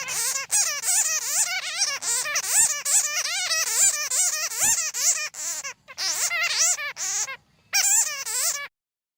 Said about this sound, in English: Bat.